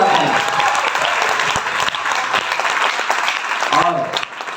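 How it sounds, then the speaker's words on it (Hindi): A gathered audience breaks into loud applause for a teacher at an event honouring him, a dense, sustained clatter of many hands with a voice briefly audible near the end. "बहुत जोरदार तालियां"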